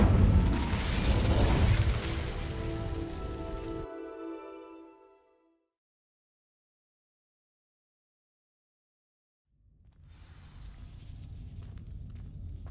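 Incendio fire spell from Hogwarts Legacy igniting dry vines, a loud roaring whoosh and crackling burst that fades out over a few seconds, followed by silence and then a quieter rumbling ambience returning.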